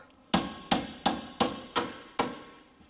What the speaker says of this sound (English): you just use a hammer to push it in all the way